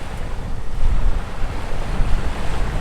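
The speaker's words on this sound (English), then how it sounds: "there's a little bit of wind noise in the background, understand that there's like, you know, monsoon, hurricane winds blowing through this beach" Strong, hurricane-like wind blows across a beach, making a loud, continuous rumbling roar of wind noise on the microphone mixed with surf, with no talking.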